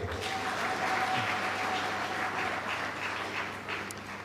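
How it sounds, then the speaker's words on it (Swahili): Audience applause at a ceremony, a dense, steady clapping from a crowd that holds strong throughout and tapers slightly near the end. "Makofi ya namna hiyo hayapendezi, tupige ya pamoja wote."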